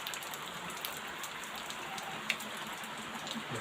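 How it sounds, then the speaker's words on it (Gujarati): Moderate rain falls in a steady, even hiss, with occasional sharper drips landing close by; no one speaks. "વરસાદ આવી ગયો"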